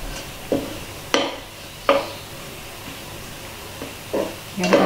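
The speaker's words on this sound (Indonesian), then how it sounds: "aduk gini supaya bawang putihnya dan bawang merahnya tidak gosong" Garlic and shallots frying in a pan are stirred on an old stove with a weak flame, giving a few scattered scraping knocks over a soft, low sizzle.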